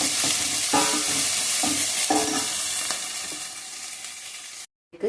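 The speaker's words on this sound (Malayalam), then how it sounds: "അതിലേക്ക് ഉള്ളിയും ഇഞ്ചി എല്ലാം കൂടെ ഇട്ട് നന്നായി വഴഞ്ഞ് വെക്കാം." Onion and ginger sauté in an oiled pan for a chicken kumbalam curry. A steady loud sizzle runs throughout while a spoon stirs and scrapes with soft periodic knocks, and it cuts off briefly near the end.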